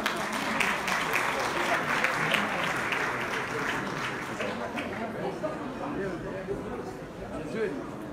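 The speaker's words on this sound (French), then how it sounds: "Donc on essaye de l'applaudir s'il vous plaît vivement" Audience applause at the 2019 women entrepreneurs' awards ceremony, a steady wash of clapping that carries on throughout with a crowd murmur and voices underneath.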